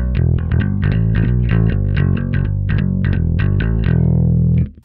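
A bass guitar played through a SansAmp preamp gives a thick, gritty distorted tone with a strong low end. Around a dozen picked notes run in a steady, driving rhythm, loud and close, and the last one is cut off abruptly.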